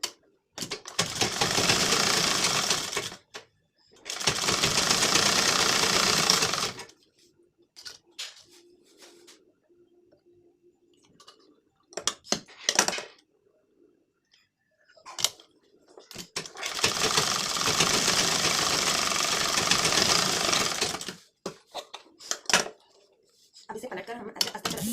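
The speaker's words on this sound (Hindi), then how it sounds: "अब इसमें हम ऐसे आधा इंच में इसकी सिलाई करेंगे।" An electric sewing machine stitches a blouse lining in several loud, rapid bursts of a few seconds each, separated by quiet pauses with small handling clicks and faint talk.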